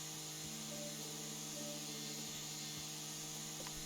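Lawn mower cutting grass in House & Garden Flipper, a steady buzzing engine drone that holds an even pitch throughout with faint tonal whines on top, no talk.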